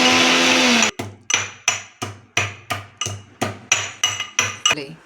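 Ginger is pounded for strong tea in a series of about eleven sharp, evenly spaced thuds with short ringing clatters. A brief blender-like whir comes first, and there is no talk.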